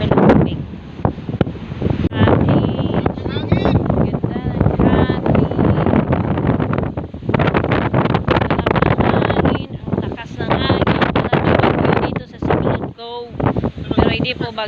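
Strong wind at sea near a beach resort cottage, roaring and buffeting into the microphone in loud continuous gusts, with a person talking throughout.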